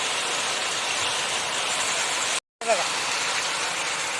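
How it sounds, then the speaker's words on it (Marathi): A heavy torrential downpour during a thunderstorm makes a loud, dense, steady roar close by. The sound cuts out for a fraction of a second, then resumes at the same strength. "एकदम मुसळधार पाऊस पडतोय"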